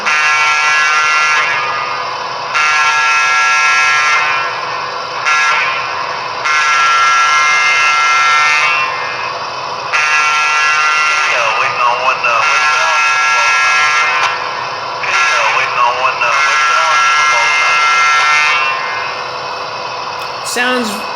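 Broadway Limited P5a box cab model electric locomotive horn, a long buzzy tone sounding in repeated sustained blasts with short gaps, loud and close, with a hollow, tunnel-like quality.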